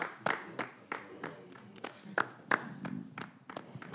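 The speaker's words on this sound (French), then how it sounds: "Mais c'est comme ça que vous applaudissez." A small studio audience on a French TV set gives sparse, scattered handclaps, irregular and fairly quiet rather than full applause.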